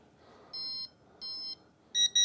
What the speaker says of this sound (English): if it senses a circuit with electricity in it, it'll beep